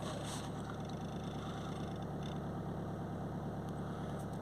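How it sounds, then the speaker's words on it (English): A Vauxhall Insignia 2.0 CDTi diesel engine idles steadily and evenly nearby, a continuous low rumble with no talk over it. "Start her up."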